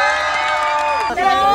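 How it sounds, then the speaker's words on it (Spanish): A crowd at a street car giveaway cheers and whoops loudly for a contestant, a dense, sustained roar of shouting voices running the full length with a brief dip near the end. "un aplauso para la segunda, por favor"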